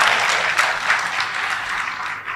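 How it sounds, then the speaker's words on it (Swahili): Sustained, dense applause from an audience at a public speech event, loud and steady throughout with scattered sharper claps and no voices over it. "Naomba tumpigie makofi mengi sana."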